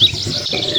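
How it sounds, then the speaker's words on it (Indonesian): Animated starlings chirp over a rice field where they perch on a large water buffalo, making a brief busy twittering with high thin calls against a soft background, with no talking. "Iya, itu burung jalak"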